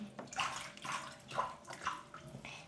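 Bathwater with foam bubbles sloshing and splashing in a tub, a steady run of soft, close watery swishes and gurgles with no talking.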